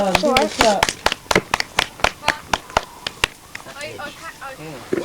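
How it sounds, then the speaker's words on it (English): Schoolchildren at a primary school clap for a classmate: a run of sharp, fairly quick claps from a small group that thins out toward the end, with children's and adults' voices talking over and after them. "Give it a clap."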